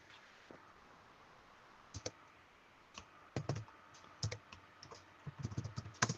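Typing on a computer keyboard: soft, close key clicks in short irregular bursts, sparse at first and then quicker near the end, over a quiet room.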